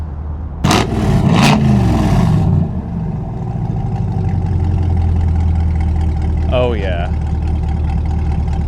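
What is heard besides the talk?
C8 Corvette Stingray engine revving and idling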